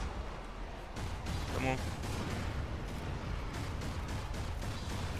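Missile launches and machine gun fire in the video game Prototype make a dense, continuous rumble of blasts and crackle beneath someone talking.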